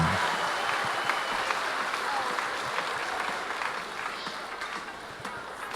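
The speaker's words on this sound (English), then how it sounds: "Let's give yourselves a huge round of applause" A large audience at a theatre production in Fiji claps steadily throughout, a dense, even wash of applause that holds at a constant level from start to finish.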